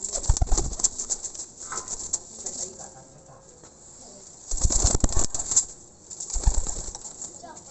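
Twenty-three pigeons coo softly while bursts of wing flapping come and go, a few loud flurries separated by quieter stretches of cooing.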